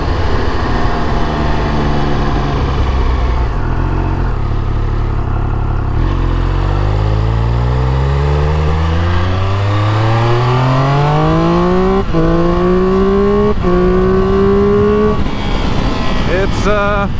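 A 2022 Triumph Speed Triple 1200 RS three-cylinder engine pulls hard while riding, its pitch climbing smoothly through the revs, dropping at gear changes, then rising again, loud and close with wind rush.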